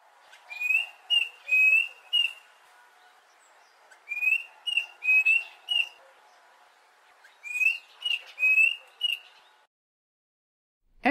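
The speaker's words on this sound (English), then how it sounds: "Class's cuckoo singing." Klaas's cuckoo singing in the African wild, three clear whistled phrases of repeated rising notes, each series of three to four notes, near and alone against a quiet background.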